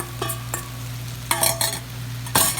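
Sausage stirred back into a pot of Creole jambalaya, a few short scraping stirs over a steady low kitchen hum, with a soft sizzle beneath.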